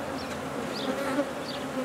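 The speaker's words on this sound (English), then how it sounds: "I'm just gonna shake that in there, shake some bees off in a bit, add into their population" Honey bees shaken off a frame into a mating nuc fill the air with a steady, close, dense buzzing hum, without talk.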